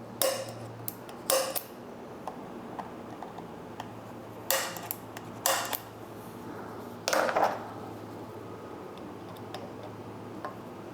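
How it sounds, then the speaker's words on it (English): Sharp metallic taps of a center punch on metal ring out one at a time, spaced irregularly over a quiet hum, some struck in quick pairs, while fitting clip-ons and a triple clamp to a BMW S 1000 RR motorcycle. "take a center punch and center punch these out to drill"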